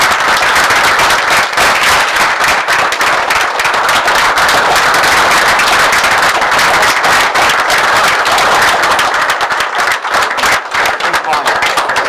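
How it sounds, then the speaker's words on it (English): Loud, dense applause fills a borough council meeting room, a continuous crowd of clapping hands sustained at full strength from start to finish. "Let's have one more big round of applause for this evening."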